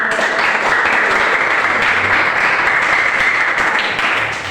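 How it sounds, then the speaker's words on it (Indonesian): An audience applauds a group presentation at an Indonesian school or campus event, with dense continuous hand clapping at a steady loud level that fades slightly at the end. "Tepuk tangan dulu."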